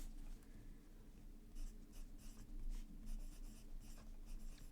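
A very broad, wet fountain pen nib scratches across paper in short strokes, soft and close, rhythmic bursts of scribbling with pauses between, no talking.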